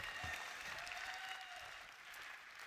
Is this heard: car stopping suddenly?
no